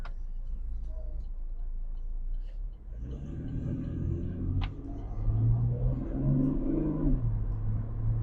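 A Chevrolet Camaro driven in Burkina Faso, quiet at first, then an engine rumble swells and climbs in pitch, drops as a paddle-shifted gear change comes, and keeps pulling.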